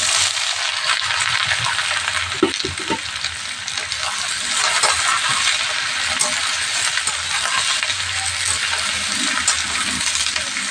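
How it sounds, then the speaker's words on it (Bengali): Potatoes and onions tipped into hot mustard oil, a loud, dense, continuous sizzle and crackle of frying with occasional clinks and scrapes, close up. "তেলটা ফুটে গেছে এবার আমি আলু পেঁয়াজটা ঢেলে দেবো"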